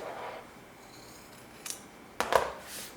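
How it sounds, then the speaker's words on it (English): Scissors snipping the fabric corners of a sewn collar on a front-zip jumpsuit, two or three crisp close cuts over a quiet room hiss with no speech. "now I'm going to go ahead and trim my corners"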